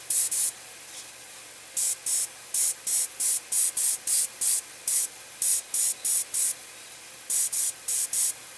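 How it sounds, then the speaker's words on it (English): A Badger Minitaire airbrush sprays a mist of thinned paint in about seventeen short, crisp hissing bursts. The bursts come in quick rhythmic groups with brief gaps over a quiet background, close and fairly loud, with no talk. "I'm just kind of popping it with some mist of the color"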